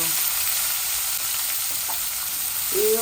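An onion frying in a pan, a loud, dense, continuous sizzle close by, with a brief scrape of stirring near the end.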